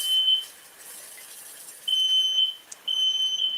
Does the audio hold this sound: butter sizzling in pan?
no